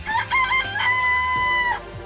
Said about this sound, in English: I can actually interact with the chickens.